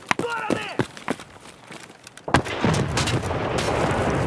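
Grenade explosion in a Escape from Tarkov-style shooter game: scattered footsteps and gunfire lead into a sudden sharp boom followed by a rumbling roar that keeps going.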